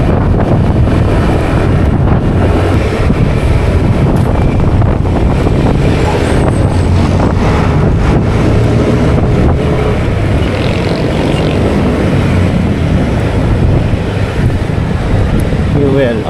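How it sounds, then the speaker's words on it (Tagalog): Loud, steady wind buffeting the microphone throughout, a constant roaring rush with no breaks. "Lakas ng hangin."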